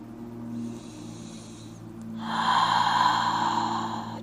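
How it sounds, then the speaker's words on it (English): A slow yoga breath, one long breathy inhale followed by a louder, airy exhale, heard close over a low steady hum. "Try and smooth and lengthen it out a little bit more than what you're used to. Inhale slow. And exhale."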